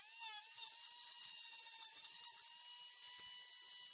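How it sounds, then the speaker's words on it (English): A Dremel flex shaft with a flame-shaped 1/8 inch shank Kutzel burr carves wood, a thin high-pitched whirring grind that holds steady throughout at a fairly faint level. "This is the flame-shaped burr, 1/8 shank. I put it right in the flex shaft of the Dremel."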